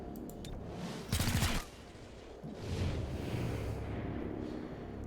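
Gunfire in XCOM: Chimera Squad: one loud burst of shots lasting about half a second, set against a steady low rumble of background ambience.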